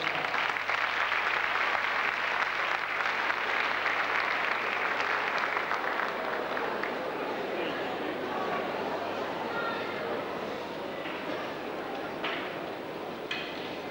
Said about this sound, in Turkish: yine güzel alkışlarınızla davet ediyoruz